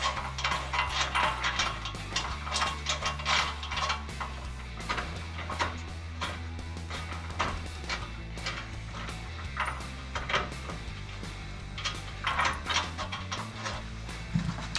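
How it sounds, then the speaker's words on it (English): A ratchet wrench tightens bolts on a Jeep Gladiator JT headlight assembly during a front bumper install, producing a steady run of close, quick mechanical clicks over a busy background hum. "Hit it with a little bit of wrench action."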